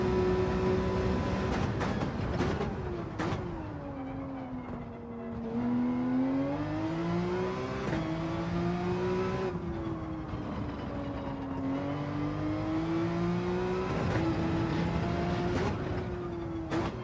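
A Porsche lapping in Gran Turismo 7, its engine whining up and down steadily through gear changes and corners, loud and close with brief rises and dips in pitch.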